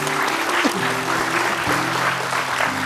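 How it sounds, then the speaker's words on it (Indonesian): Studio audience at an Indonesian TV talk show applauding for the guest Arini, a steady wash of clapping with some tonal music or voice underneath throughout. "Oke, tepuk tangan dulu untuk Arini"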